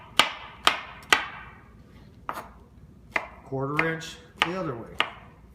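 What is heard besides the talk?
knife slicing mushrooms on cutting board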